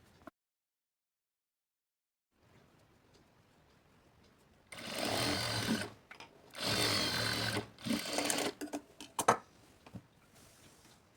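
An electric sewing machine stitches a blouse in bursts, whirring loudly for a second or two at a time with pauses between, after a quiet stretch at the start.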